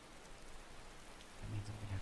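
Steady rain falls across the Skyrim game world as a soft, even hiss, with a low rumble swelling near the end like distant thunder.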